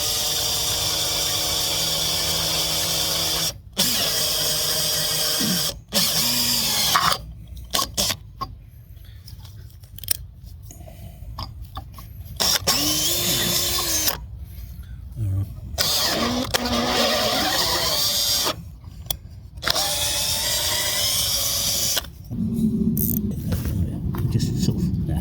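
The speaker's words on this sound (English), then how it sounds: "It's a new drill bit." A power drill fitted with a new bit works on an anchor for an antenna tower, its motor whining and sweeping in pitch through repeated bursts separated by short pauses, close and fairly loud.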